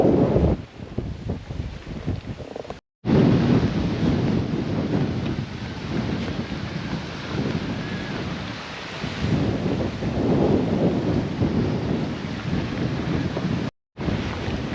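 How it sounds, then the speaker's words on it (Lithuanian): An outdoor storm at the Svencelė shore brings rain and thunder, with steady loud wind buffeting the microphone and low rolling rumbles. The sound cuts out briefly twice. "Ką pradeda lyt lietus"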